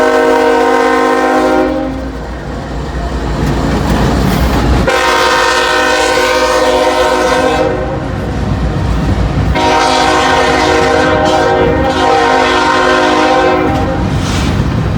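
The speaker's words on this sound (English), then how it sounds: "This is the gondola car, or gondola train." A freight train of gondola cars rolls past close by, its heavy rumble and steady clatter of cars continuing throughout, with a loud horn sounding over it.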